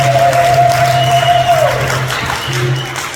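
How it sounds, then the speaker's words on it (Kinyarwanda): A church congregation claps together at a sermon, and the applause sounds fairly loud and full before it tapers off, with a held tone and some voice underneath. "mumfashe tuyikomere amashyi"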